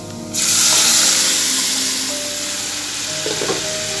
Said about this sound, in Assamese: এতিয়া ইয়াতে মই দালিখিনি দি দিম